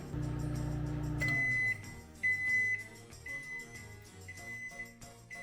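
A microwave oven runs steadily while cooking bacon, its low hum giving way to faint crackling and sizzling, with a high-pitched tone beeping and cutting in and out intermittently.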